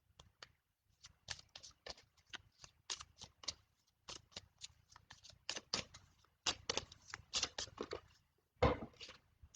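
A deck of cards is shuffled and handled near the microphone in repeated quick bursts of riffling and flicking, separated by short pauses.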